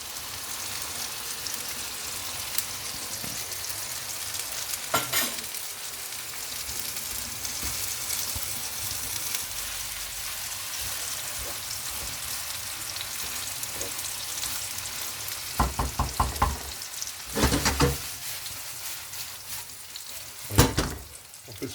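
Cooked pilaf white rice stir-fried in a wok, a steady close sizzle and frying hiss throughout, with a few louder scraping and tossing bursts near the end.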